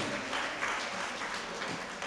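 Audience applause for the elders in the room at a 2008 community convention, a steady, dense wash of clapping that holds evenly throughout without a break.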